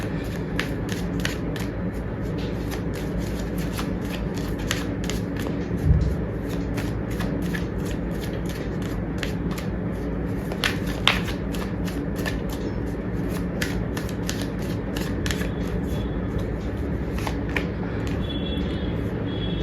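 Tarot cards are shuffled by hand close up, a steady papery riffling and flicking that runs continuously with a few soft knocks.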